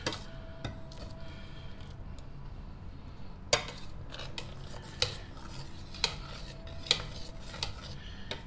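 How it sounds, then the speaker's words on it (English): Tom yum soup stirred in a pot on the stove, a spoon clinking and scraping against the metal in scattered sharp taps over a low simmering bed, fairly quiet and close. "Give your tom yum a good stir to make sure the chili paste has fully dissolved into the stock"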